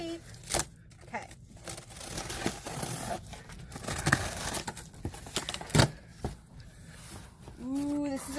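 Tape peeled and torn off a cardboard package in a sequence of crackly, ripping bursts of varying length, close and fairly quiet, with brief speech near the end.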